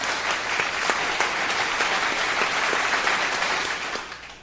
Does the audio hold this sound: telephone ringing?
no